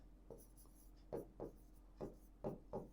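A teacher writing on a classroom board: six short scratchy strokes in an uneven rhythm, faint and close, with no voice over them.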